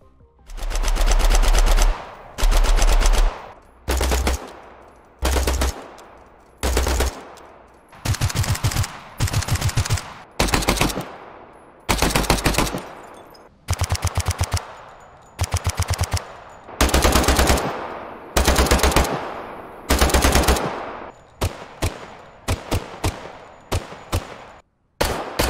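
Bursts of automatic gunfire from the video game Nine to Five, loud and close, repeating rapid volleys with short gaps between them and some single shots toward the end, with no speech.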